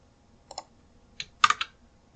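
Computer keyboard keystrokes for copying and Alt-Tab window switching: a few sharp, close clicks, first two single taps, then a quick cluster of three or four presses.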